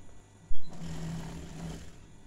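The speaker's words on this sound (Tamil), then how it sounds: "இந்த மாதிரி ஸ்டிச் பண்ணி விட்டுட்டு" A sewing machine stitches the folded hem of a chudithar top in one short, steady whirring run of about a second, preceded by a soft knock.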